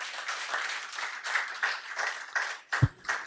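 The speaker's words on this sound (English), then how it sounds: "let's give them a round of applause" Applause from a conference audience at a power-sector policy forum, moderate and steady for a few seconds, then a single louder thump near the end as it fades.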